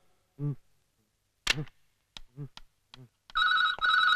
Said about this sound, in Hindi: अरे इतनी रात को किसका फोन आ गया